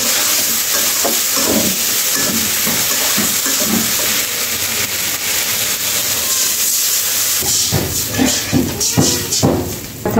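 Spice paste with turmeric, coriander, ginger and cumin sizzling loudly in a pan while stir-cooked for rui fish curry, a steady close hiss broken by rhythmic scraping strokes that grow busier toward the end.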